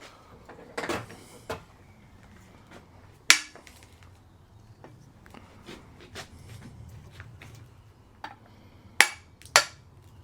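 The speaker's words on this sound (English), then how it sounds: "What do we do with the hammer?" Sharp metallic hammer strikes land irregularly while hammering out a rusted metal bushing on a Suzuki Jimny, a few loud blows among lighter taps and clinks, close by and without speech.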